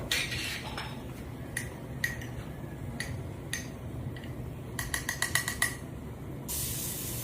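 Garlic frying in hot coconut oil on a stove for pork adobo: a steady sizzle with scattered sharp clinks and ticks, ending in a brighter hissing burst.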